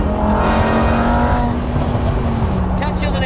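A Lamborghini Huracán EVO V10 with a QuickSilver exhaust revs loudly and continuously, its strained harmonic pitch rising then dropping, with a voice briefly audible underneath.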